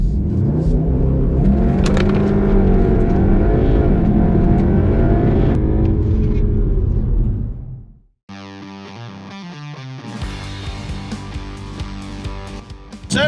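A Volkswagen Golf R Final Edition from 2020 does a launch control start, its engine held near 3,000 revs and then released. It sounds as a loud, continuous, strained roar with effects-like distortion that cuts off abruptly, followed by a different tonal, musical sound.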